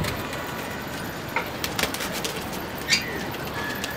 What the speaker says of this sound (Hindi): रेहान भाई भी आ गए, कबूतर आया हुआ बहुत क्यूट सा।